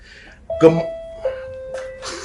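A few bell-like tones ring out over a school announcement, each holding a steady pitch and fading slowly, with a soft chime at the end, fairly close and clear.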